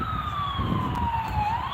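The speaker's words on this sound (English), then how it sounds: "the ambulance" Ambulance siren passing along a road near an interstate, a steady wailing tone that slowly falls in pitch as it goes by, with traffic rumble underneath.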